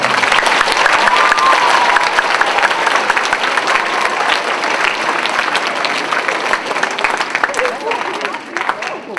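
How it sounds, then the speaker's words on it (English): A school assembly audience applauds local community heroes, a dense and loud wash of many hands clapping steadily for about nine seconds, with scattered cheers mixed in and a slight fade toward the end. "Give them another round of applause"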